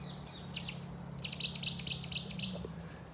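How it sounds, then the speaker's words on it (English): Birds calling among trees, a series of clear, high chirping notes repeating rapidly in short bursts over a low steady background hum, fairly close and alone without talk. "You get those clear bird calls right now."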